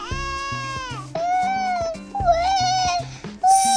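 A cat meows repeatedly, several drawn-out, wavering cries close by with short pauses between them, ending on a sharper, higher call.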